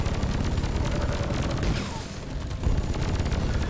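A Drak plasma carbine fires in a video game, a rapid stream of punchy shots that keeps up almost throughout, pausing briefly near the middle before resuming, with a voice talking over it.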